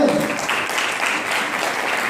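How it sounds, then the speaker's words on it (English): An audience applauds supporters at a Rigved Mahayajnya recognition event, a dense, steady clapping that stays loud and close for the full stretch. "Round of applause for them."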